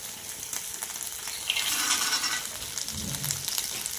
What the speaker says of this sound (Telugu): పల్లీలు మొత్తం వేగిన తర్వాత ఈ కరివేపాకు నూనెలో వేగితే చాలా బాగుంటుంది